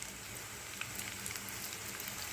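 Cabbage pakodi fry steadily in hot oil, a dense, even crackle and sizzle with scattered small pops, close and moderately quiet, with no voices.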